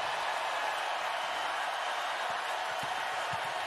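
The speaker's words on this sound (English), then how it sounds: "And the crowd responding" Broadband crowd roar from a women's college basketball arena during UConn at South Carolina, a steady loud wash of cheering sustained throughout with no break.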